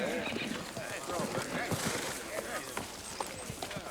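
Horse clip-clopping as it is led in at a Western frontier auction, faint scattered hoof knocks under crowd chatter and talking voices.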